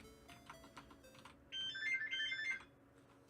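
A phone rings in the RPG Maker game The Witch's Puppets, a short electronic ringtone burst of repeating tones, clear and brief, after some quieter clicking sounds.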